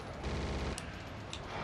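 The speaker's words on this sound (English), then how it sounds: "I shoot him in the legs repeatedly" Gunfire in the Judge Dredd vs Death video game, a quiet burst of rapid shots with a couple of sharper cracks over a dense low background, no talk.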